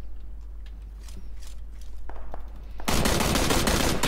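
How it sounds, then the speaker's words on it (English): Automatic weapon fire in PUBG, a first-person battle royale shooter, shooting at a fence: a sudden loud, sustained burst of rapid gunfire cuts in after a few seconds of quiet scattered game sounds. "Shooting the fence."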